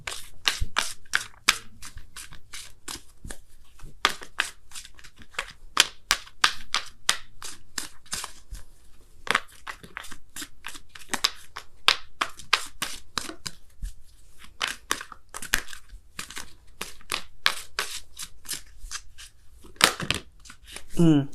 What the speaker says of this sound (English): I'm going to pull you guys a Wisdom of the Oracle card as well